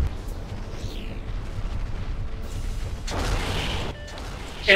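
Gas tanks blowing up in the MechAssault video game: a rumbling, sustained mechanical battle din that swells into a loud broadband blast about two-thirds through, then a sharp crack at the end.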